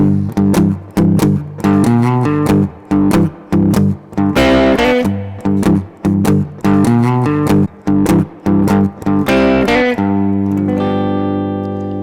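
Electric guitar plays a rolling Chicago blues shuffle rhythm in choppy repeated strums with brief gaps, ending on a sustained ringing chord; close and loud, no voices.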